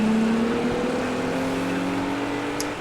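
Race cars, including a small Jaguar and a big Camaro, run at the Zolder circuit in a racing video game, with a steady loud engine drone and a faint higher whine sustained throughout.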